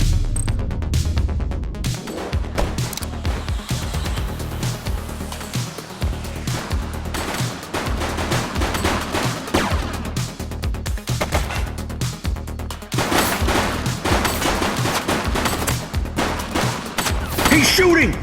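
Gunfire in a police shootout in the video game The Precinct, dense volleys of sharp cracks and rapid bursts layered over a heavy rumbling music bed, loud and continuous throughout.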